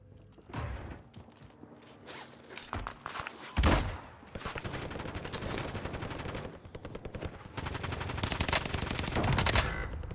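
Bursts of automatic gunfire and single shots ring out in Call of Duty Warzone on the Caldera map, loud and dense, with clattering mechanical sounds between volleys.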